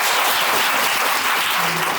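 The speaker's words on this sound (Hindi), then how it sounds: "तालियां बजाइए" Loud, dense applause from an audience at a college Q&A motivational session, steady throughout with no voices rising above the clapping.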